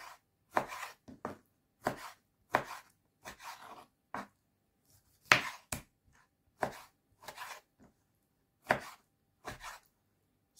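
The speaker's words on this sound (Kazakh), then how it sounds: "Енді апельсинімізді турап аламыз." A knife chops an orange on a cutting board in a dozen or so crisp, separate strikes at an uneven steady pace, close and fairly quiet with silence between cuts.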